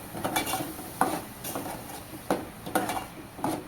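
A spoon stirs the ground masala paste into patwadi rassa in a pan over a low flame, producing a series of soft scraping strokes and light clinks of utensil against metal at an irregular rhythm, close and moderately quiet.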